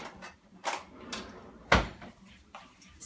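A drawer in a small kitchen is pulled open and rummaged through, giving several soft wooden knocks and slides and then one sharper thump, fairly close in a quiet room.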